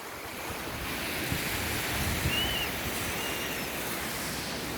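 Steady wash of surf rolling onto a Lake Michigan beach, a broad continuous roar with wind buffeting the microphone and no voices.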